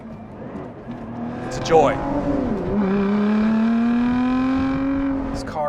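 A 2021 Lotus Evora GT's engine rises in pitch as the car accelerates hard, a steady climbing drone heard under a voice talking over it.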